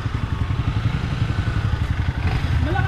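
Motorcycle engine revving nearby with a rapid, uneven pulsing putter and clatter, rising slightly toward the end, with a brief higher whine near the close.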